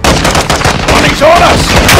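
Gunfire and explosions from a bombing run in Call of Duty Modern Warfare 2 sound as dense, loud bursts throughout, with a rising whistle midway and a voice calling out over the battle noise.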